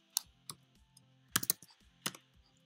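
Typing a file name on a laptop keyboard: a handful of sharp, close keystroke clicks in an irregular rhythm, some in quick pairs, all quiet against near silence.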